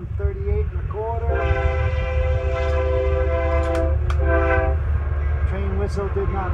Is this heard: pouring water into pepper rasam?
no